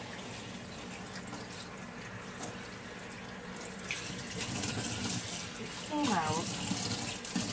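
A tap runs into a sink while linen fabric dyed with coffee is rinsed out. The flow is low and steady, a brief voice is heard, and the water gets a bit louder toward the end.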